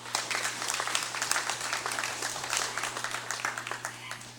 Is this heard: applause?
yes